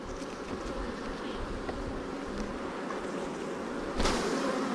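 Honeybees buzzing around an opened hive during queen-cell checks, a dense steady drone close by with no voices.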